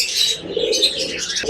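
A pigeon nesting with two chicks coos in low, rolling notes, mixed with higher twittering calls, close up and steady over a short stretch.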